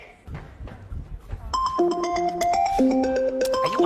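A mobile phone ringtone plays a bright electronic melody of stepped tones, loud and steady for over two seconds, coming in after a short stretch of background noise and faint sounds in a domestic comedy scene.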